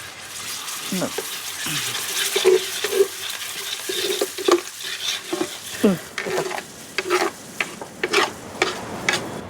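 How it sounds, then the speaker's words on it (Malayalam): Masala frying and being stirred in a pan at a beachside village cooking spot, with repeated scraping strokes over a steady sizzle and splashes of liquid, up close, as people talk nearby. "ആ മസാല ഇങ്ങോട്ട് ഇട്ടോ."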